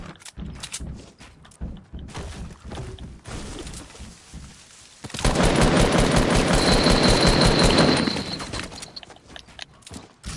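Gunfire in the video game Fortnite: scattered single shots, then a dense sustained burst of rapid automatic fire in the middle that fades out, mixed with clicks and footstep-like taps.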